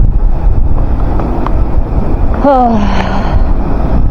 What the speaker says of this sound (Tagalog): Malakas ang hangin. Pag naririnig niyo yung lakas ng hangin, napakalakas.